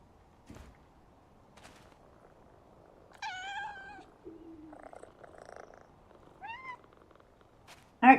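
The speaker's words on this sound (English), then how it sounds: "That's the cat." A cat in the video game Powerwash Simulator 2 purrs softly, then gives a few clear meows separated by pauses, with a sharp knock or click at the very end.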